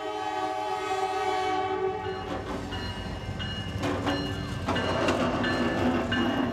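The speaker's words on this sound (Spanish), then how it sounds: "un tren de unos 100 vagones cierra todos los pasos durante minutos" A long freight train of about 100 cars rumbles past beside the riverbank in New Orleans, with a loud sustained horn blast up front and then clattering wheels and rolling cars continuing close by.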